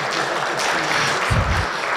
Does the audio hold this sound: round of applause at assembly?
yes